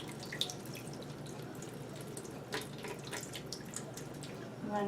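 Water poured from a cup into a paper-making mixture, a soft trickle with scattered drips and splashes, quiet and close, running steadily for a few seconds.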